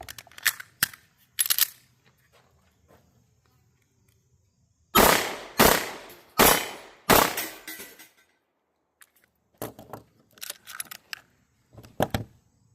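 Pistol shots fired from a handgun with a red dot sight outdoors: a few scattered shots, then a rapid string of four loud, sharp cracks, followed by further irregular shots with gaps and some distant-sounding pops.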